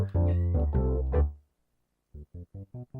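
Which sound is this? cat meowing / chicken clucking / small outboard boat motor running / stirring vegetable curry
cat meowing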